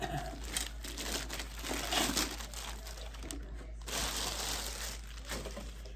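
Packaging crinkling and crumpling as a WEBANG 50A EV/RV outlet box is unwrapped, a steady rustle of plastic and paper close by throughout, with a brief pause before the crinkling resumes.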